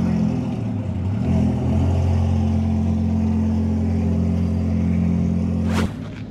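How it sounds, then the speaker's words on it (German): Red purpose-built race car with over 2000 hp idling loudly and steadily nearby with a deep, droning engine note, then pulling away with a brief burst at the end. "bei dem roten Schmuckstück, was hier gerade eben weggefahren ist, handelt es sich natürlich um ein reines Rennfahrzeug jenseits von 2000 PS"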